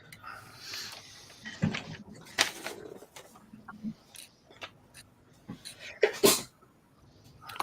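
A loud, sharp sneeze rings out near the end amid scattered clatter and brief vocal sounds during a livestream, preceded by several smaller bursts of noise in a room.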